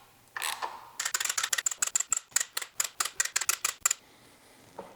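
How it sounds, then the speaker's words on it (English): A ratchet clicks rapidly as engine front cover bolts are torqued down. About twenty sharp, close mechanical ticks come in quick bursts, then stop. "I could finally align the front cover and torque it down"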